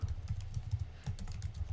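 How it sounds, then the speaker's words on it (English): Quick, rapid keystrokes clatter on a computer keyboard while a formula is entered into a spreadsheet, close and fairly quiet, with a brief pause midway. "I can just type it in here"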